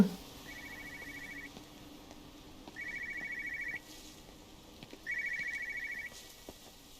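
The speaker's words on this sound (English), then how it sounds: "That's a phone." A telephone rings in the video game Everybody's Gone to the Rapture, three faint electronic trills, each about a second long, spaced evenly over a quiet ambient background.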